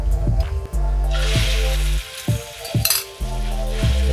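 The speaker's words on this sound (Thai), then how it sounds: "จะเอาไปลงกระทะกัน" Snakehead fish sizzles loudly in a hot frying pan, with bursts of crackling oil broken by short pauses and clinks as the pieces are stirred and turned.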